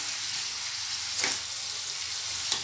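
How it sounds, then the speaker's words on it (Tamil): Onions sizzle and fry steadily in hot oil for a tamarind drumstick curry, a constant crackling hiss with a couple of brief stirring scrapes. "வெங்காயம் எல்லாமே இந்த ஆயிலில் நல்லா பரவுற அளவுக்கு வதக்கி"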